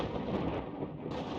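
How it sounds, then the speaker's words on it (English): Thunder from a lightning storm in the video game WorldBox rolls as a dense, loud, continuous rumble with no pause over its short span. "Damn, you lightning storms are loud."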